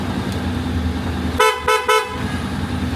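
A Honda X-ADV 750 scooter fitted with an added horn package gives three quick, loud honks in close succession over a low idling engine hum.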